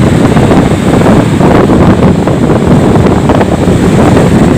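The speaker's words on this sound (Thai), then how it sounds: "ลมแรง" Strong seaside wind batters the microphone in a continuous loud roar, with surf from the rising tide churning underneath and no pauses.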